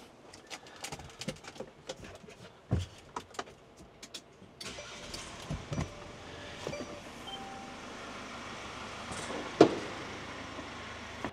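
Mercedes Sprinter van engine being started: quiet clicks and knocks, then the engine turns over and catches, settling into a steady idle with a brief louder knock near the end, birds faint in the background.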